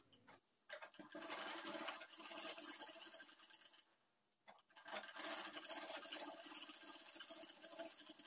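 An electric sewing machine stitching the side seam of a newborn baby's dress, a rapid whirring buzz in bursts: a brief start, a sustained run of about three seconds, a short pause, then another long continuous run, close and clear.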